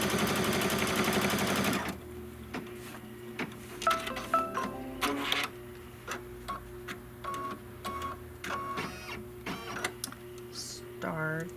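An embroidery machine stitches a seam line through layered fabric for a quilted mistletoe project, a close run of rapid mechanical ticks and clatter in short bursts and pauses after a brief loud opening.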